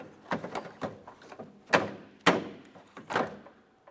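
A series of plastic clicks, thunks and a few sharper snaps as a rear inner tail lamp assembly is pushed out of the tailgate of a 2011-2021 Jeep Grand Cherokee. The sounds are close and uneven, with no talking.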